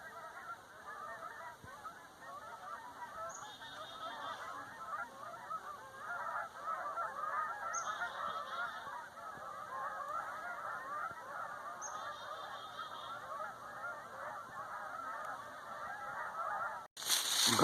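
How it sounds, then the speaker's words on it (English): Geese honk as they fly overhead above an autumn garden, repeated nasal calls from a flock sounding moderately distant over quiet outdoor ambience. "we're going to have some geese fly overhead,"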